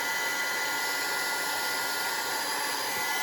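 A hair dryer blows steadily up close to dry paint on a salt dough Christmas tree ornament, a loud, even whooshing hiss that runs unbroken from start to finish.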